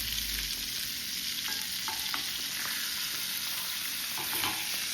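Steak sizzles in a hot pan just after being flipped, giving a steady close frying hiss for the whole stretch, with a few faint clicks of the utensil.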